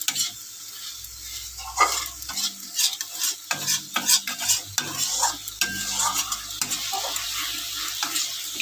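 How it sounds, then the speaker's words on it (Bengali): Freshly picked garden mushrooms sizzle in a hot pan as a utensil stirs and scrapes them in irregular bursts. The close, lively frying hiss carries on throughout. "সেটা এরকমই মাখা মাখা করবো, একটু সামান্য ভাজা ভাজা।"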